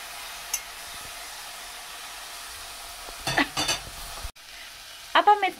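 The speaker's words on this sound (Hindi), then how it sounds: "अब हम इसे अच्छे से चला लेंगे ताकि जो टर्निप्स हैं वो अच्छे से सारे मसालों में मिक्स हो जाएं" Turnips being stirred through spices in a pan for vegan turnip galawati kebabs, a steady low frying hiss with a few brief scraping stirs and clatters partway through, then a short sharp sizzle near the end; no talking.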